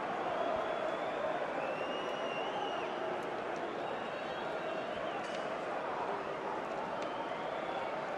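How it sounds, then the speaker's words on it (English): A large football crowd at an FA Cup quarter-final between Brighton and Nottingham Forest roars steadily and loudly, voices massed together in a dense, continuous wall of sound with no breaks. "The crowd are screaming for handball, but foul given on the Forest captain"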